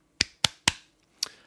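Sharp hand claps, four in all: three quick ones close together, a short pause, then a last one. They are crisp, close and fairly quiet, with no voices.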